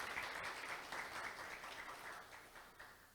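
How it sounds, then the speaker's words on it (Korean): Applause from the audience at a Korean vocational training and HRD forum, a soft, distant, continuous patter of many hands clapping that fades slightly toward the end. "다시 한번 유기락 한국직업능력연구원 본부장님께 박수 부탁드리겠습니다."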